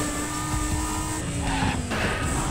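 Steady engine drone from a customized car in Need for Speed World, a continuous mid-pitched hum with a faint rising whine, loud and close with no talking over it.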